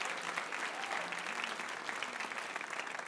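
An audience claps loudly and steadily for the performer Logan, a dense, even wash of applause with a few faint voices mixed in.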